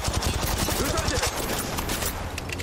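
Rapid gunfire bursts in the Apex Legends Mobile video game, dense and loud throughout, with voices talking over the shooting.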